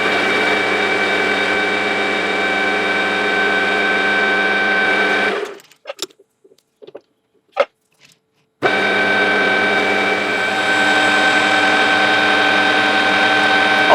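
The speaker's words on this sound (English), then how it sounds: "I'll face both ends first and get it to the correct length." A metal lathe faces the ends of a brass round bar, giving a loud steady whining drone that cuts out for a few seconds of near silence with small clicks, then starts up again and runs on.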